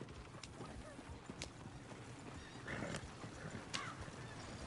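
Horses in a video game clopping their hooves, with several sharp whinnies and neighs rising over steady hoofbeats and busy background noise.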